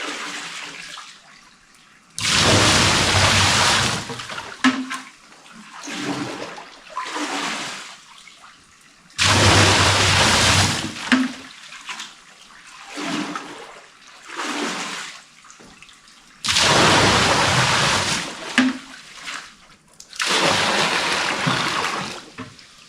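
Water from a 5-gallon bucket is poured into a pool in four separate loud, rushing pours, each lasting a few seconds, with quieter splashes and handling noises between them.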